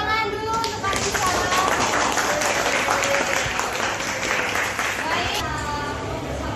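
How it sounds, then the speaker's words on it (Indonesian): Audience in a classroom supervision session applauds a presenter, steady dense clapping that fills the room for several seconds, with children's voices chattering underneath. "Tepuk tangan dulu untuk Karisa."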